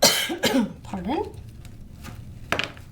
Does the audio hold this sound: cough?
yes